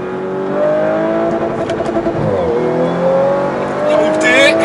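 Audi RS4 B9 (2018) accelerating hard out of a corner on the Paul Ricard circuit, its engine rising in a loud, steady climbing drone from inside the car while someone talks over it.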